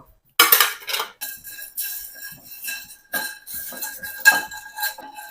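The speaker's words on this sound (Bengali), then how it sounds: "ছোট একটা জায়ফল জায়ফলটা বড় না আর কয়েকটা গোলমরিচ আর লং দারচিনি একসাথে টেলে নিব" Whole nutmeg, black peppercorns, cloves and cinnamon are dry-roasted in a pan, giving close, irregular metallic clinks and rattles as the spices and utensil knock against the pan.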